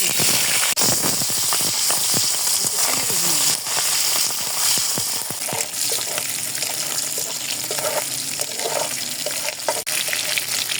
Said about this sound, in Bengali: দেখেন এরকম করে ভেজে নিলে একটু শক্ত হয়ে যায়। সবগুলো আলুগুলা ভেজে নেব।